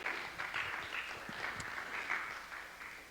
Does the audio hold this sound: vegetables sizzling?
no